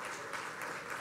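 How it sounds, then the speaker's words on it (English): Audience applause fills a conference hall during an international tourism conference session, a steady dense clapping wash, fairly loud and continuous without any talk over it. "Please give applause for NHI Bandung Tourism Polytechnic."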